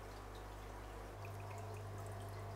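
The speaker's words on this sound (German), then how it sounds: "ich darf heute die Orchidee, wollte ich gerade sagen, nein, die Begonie gießen" Water pours softly into a potted begonia, a quiet continuous trickle over a low steady hum in an indoor room with an aquarium setup.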